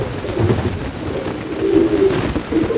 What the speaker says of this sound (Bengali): দেখতে পাচ্ছেন কবুতরটা কিন্তু উঠে চলে গেল।